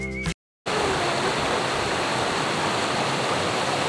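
A river stream at a campsite rushes in a loud, steady broadband flow after a brief moment of silence at the start, with no voices over it.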